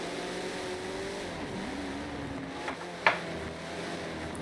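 Race cars in a sim racing game at Silverstone, a steady engine drone with shifting pitch as cars run together, a brief louder whoosh of one passing near the end.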